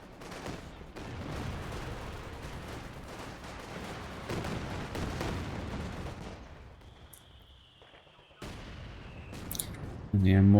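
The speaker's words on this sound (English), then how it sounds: "Mortar doing its job here" Mortar fire in the Company of Heroes strategy game: a steady stream of dull booms and crackling battle noise under a commentator's voice, with a louder impact near the end.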